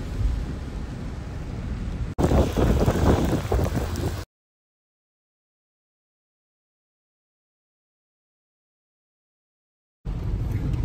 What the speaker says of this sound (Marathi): लय पाऊस सुरू झालेला आहे